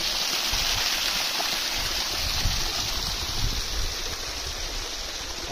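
A stream flows steadily outdoors along a route near Ghazi Banda, giving a loud, continuous broadband rush of water that stays even throughout with no pauses.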